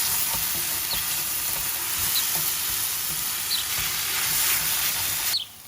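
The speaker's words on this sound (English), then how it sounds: "Add tamarind pulp." Tamarind pulp goes into a hot pan of spices, coriander powder and red chili powder, with a loud, steady sizzle and faint stirring scrapes that cut off abruptly near the end.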